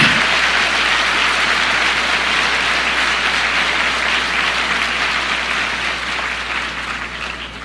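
Sustained applause from a church congregation at a sermon, a dense, steady wash of clapping that carries on for several seconds and slowly fades toward the end, with no talking over it.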